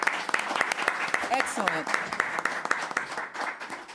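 Audience applause at a public hearing of a state reparations commission, heard as moderate, sparse clapping with distinct individual claps. A voice speaks briefly over it partway through.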